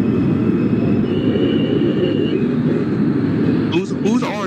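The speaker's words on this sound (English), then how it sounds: "Oh, here comes the G train." An R32 subway G train arriving in the OpenBVE train simulator, a steady loud rumble and roar of rolling wheels with squealing brake tones near the end, while people talk over it.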